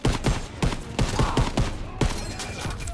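Rapid gunfire in Call of Duty: WWII, with repeated close, loud shots in quick bursts across the whole stretch.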